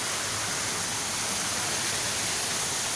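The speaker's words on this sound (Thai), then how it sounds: "ก็มีน้ำตกสวยมากเลย" An indoor waterfall in a cafe garden gives a steady, even splashing hiss of falling water, close and continuous for the whole few seconds, with no voices.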